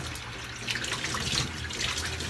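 Running tap water splashes steadily into a sink as a face is rinsed clean after a wet shave, a continuous mid-close hiss with small bursts of splashing and no talk.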